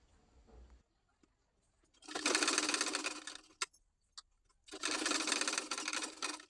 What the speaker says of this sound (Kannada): 2 ಪಾರ್ಟ್ನ ಉಲ್ಟಾ ಆಗಿ ಇಟ್ಕೊಂಡು ಶೋಲ್ಡರ್ ಅಟ್ಯಾಚ್ ಮಾಡ್ಕೊಳ್ತಾ ಇದ್ದೀನಿ.